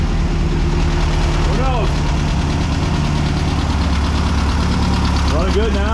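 A 1600cc VW dune buggy engine idles with a steady, loud, lumpy beat close by, and someone speaks briefly over it.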